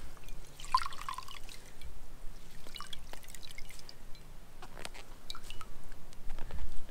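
Wet spandex-polyester cooling gaiter being wrung out, quiet wet squelching and scattered drips of water falling close by, faint and irregular, with no talk.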